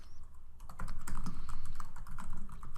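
Fingers tap quickly on a computer keyboard, a steady run of close, light clicks while entering details, with no voices.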